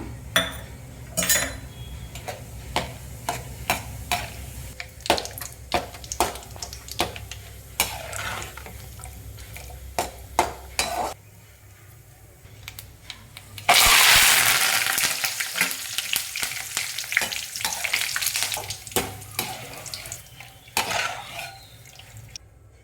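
Peanuts and roasted gram for a homemade spicy snack mixture are toasted on a medium flame, with a ladle clinking and scraping against the pan, then a sudden loud burst of sizzle that settles into steady frying.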